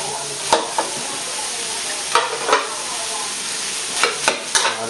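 Rice tossed into a pan of cooked shrimp for fried rice, a utensil scraping and clacking in uneven bursts over a steady sizzle, close and without speech.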